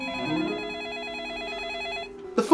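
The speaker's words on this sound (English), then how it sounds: "The phone starts ringing as he just walks into the house and answers it" A telephone bell rings in a house, a steady repeating trill lasting about two seconds and then cutting off, followed by a brief clatter as the receiver is picked up.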